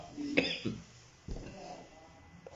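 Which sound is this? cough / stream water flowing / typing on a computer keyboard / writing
cough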